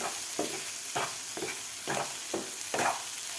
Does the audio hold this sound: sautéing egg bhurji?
yes